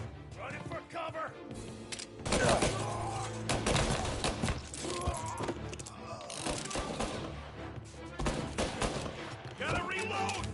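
Rapid bursts of gunfire in the Mafia video game, loud and close, with machine-gun volleys and single shots mixed with mechanical clatter, alongside in-game chatter and music.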